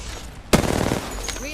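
Rapid automatic gunfire in a shooter video game erupts suddenly after a quiet moment, a loud close burst of repeated shots that fades into softer background game sounds.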